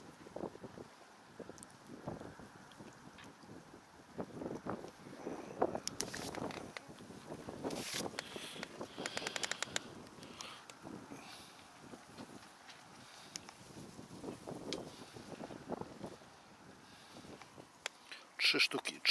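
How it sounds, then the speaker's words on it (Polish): Strong wind gusting at sea around a fishing boat, buffeting the microphone in loud, uneven bursts throughout, with someone talking over it. "Wieje strasznie"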